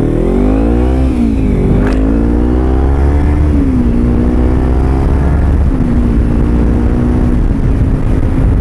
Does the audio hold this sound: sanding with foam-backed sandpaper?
no